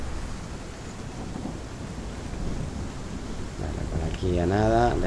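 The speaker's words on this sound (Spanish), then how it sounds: "Aquí no para de llover, señores." Rain and thunder in the Hellblade: Senua's Sacrifice video game form a steady hiss of rainfall over a low rolling rumble, and a voice starts speaking near the end.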